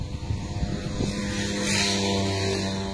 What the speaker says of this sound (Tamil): இந்த மோட்டர்ல தான் நாங்கள் குளிக்க போறோம்.